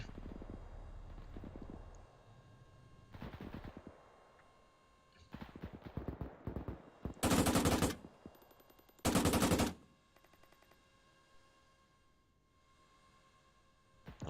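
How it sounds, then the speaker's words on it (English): MG42 machine gun fire in an Arma 3 World War II battle, heard as several sharp, loud bursts of rapid automatic fire separated by quieter battlefield gaps, with no talking. "I know it's an MG42"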